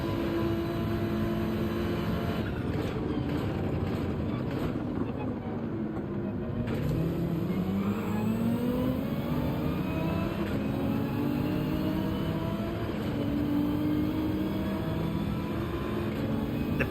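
Nissan GT-R racing engine in Gran Turismo 7 at a Deep Forest manufacturers' race, droning steadily with rising and falling pitch through gear changes, alongside other engine and wind noise for the whole stretch.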